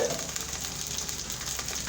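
Peas and potatoes fry in a pot for mixed vegetable pulao, giving a steady, fairly quiet sizzle with faint stirring throughout.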